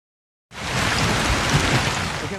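Steady rain begins abruptly after a brief silence and continues as a dense, even hiss of drops falling on surfaces.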